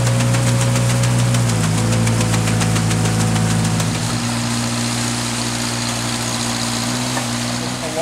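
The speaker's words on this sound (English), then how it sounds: "Paddle wheels instead of a propeller, because we're able to now go into areas that are thick and plant without getting entangled." Steady rumbling engine of a paddle wheel boat clearing water hyacinth at Stockton, with a continuous low drone and mechanical knocking, the pitch shifting slightly partway through, loud and close with no talk.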